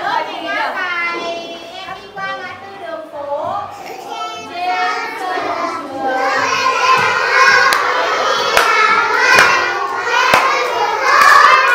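Children's voices sing and chatter loudly while hands clap along, the clapping becoming rhythmic and more prominent in the second half amid a lively group gathering.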